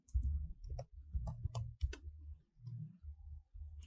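Faint mouse clicks on a computer while searching for a page in Google Chrome, several quick taps in uneven bursts with short gaps between them, close and quiet.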